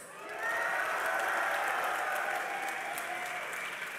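A large esports crowd at the DreamHack Winter 2012 grand finals cheers and claps loudly, the applause swelling quickly and holding steady as a dense, continuous roar.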